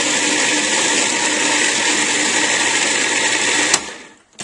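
A food processor grinds oat groats in a loud, steady whir for a few seconds, then cuts off abruptly and spins down.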